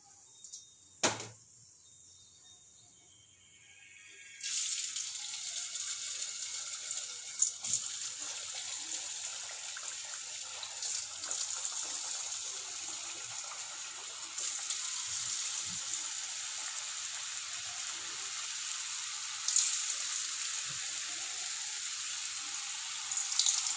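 Thattai rice crackers dropped into hot oil, a sharp splash followed by a steady loud sizzling hiss of frying that carries on continuously with occasional crackles and pops.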